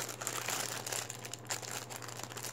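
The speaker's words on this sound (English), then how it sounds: "As always, I apologize for the crinkling." Plastic packaging from a shopping haul crinkles and rustles as it is pried open, a soft, continuous, close crackle at low volume with no speech.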